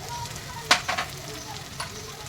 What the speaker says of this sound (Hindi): लो फ्लेम करके ये हम मसाला भूनेंगे।